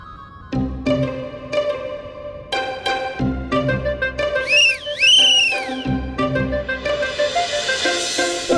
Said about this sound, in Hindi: बाबूजी ने 4 सीटी मारी